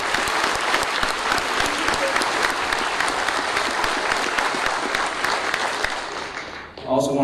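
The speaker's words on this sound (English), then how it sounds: "Give yourselves a big round of applause" An audience at a World War II submarine veterans memorial ceremony applauds loudly and steadily for several seconds, a dense wash of clapping that fades near the end as a voice begins over a microphone.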